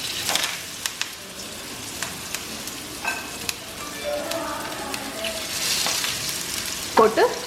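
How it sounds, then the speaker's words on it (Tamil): Fish sizzles steadily in hot coconut oil, a continuous bright frying hiss with a few sharp utensil clicks and a louder clatter near the end. "ஸோ இப்போ ஃபிஷ்ஷை போட்டுடலாம்."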